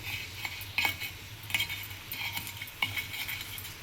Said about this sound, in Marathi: ते आपण चमच्याच्या मागच्या बाजूनी असं चांगलं तव्यावरती घासून घ्यायचं